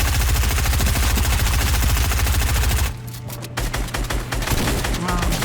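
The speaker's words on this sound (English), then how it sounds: "quite interested in shooting down walls and stuff" Rapid automatic gunfire in the video game Fortnite, fired while shooting down walls, rattles loud and steady for about three seconds, then gives way to scattered shots and impacts.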